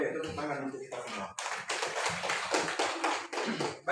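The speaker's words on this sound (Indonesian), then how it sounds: "Oke, tepuk tangan untuk kita semua." A class applauding together in a school lesson, a burst of many hands clapping in quick, uneven rhythm that follows a teacher's spoken voice and runs on for a few seconds.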